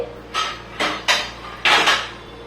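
Grated fresh coconut stirred into varai (barnyard millet) in a metal pan: four or five distinct scraping clinks of a spoon against the pan, spaced unevenly, close and moderately loud, with no talking.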